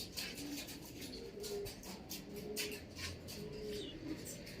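Racing pigeons coo softly in a repeated rhythm of low, rolling calls a few seconds apart, close by, with a faint airy background and no voices.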